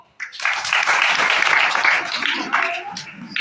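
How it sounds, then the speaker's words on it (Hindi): Applause breaks out after a short silence at a school magic show, then holds as a full, close wash of clapping from many hands before tapering slightly near the end. "टिके ताली दबो"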